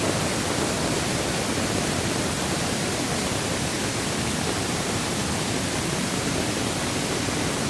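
Swollen river in flood during Konkan monsoon, water rushing hard and loud in a dense, steady roar that fills the whole span without a break, close by and unbroken, with no voices over it.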